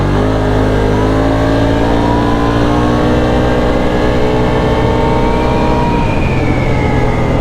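A motorcycle fitted with an HMF Racing full exhaust system revs loud and close, a continuous engine roar whose pitch climbs steadily and then drops off near the end, with no talking.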